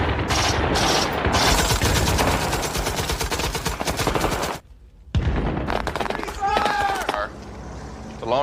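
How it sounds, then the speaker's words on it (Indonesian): Firefight from a Vietnam War film: dense, rapid bursts of close machine-gun and rifle fire, a brief silence, then more shooting, with voices over the gunfire. "mereka pun terlibat baku tembak"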